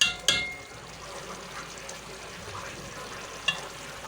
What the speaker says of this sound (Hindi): अब हम इसमें अपना कीमा ऐड करेंगे और फिर इसकी भुनाई करेंगे, अच्छे से इसे भुनेंगे।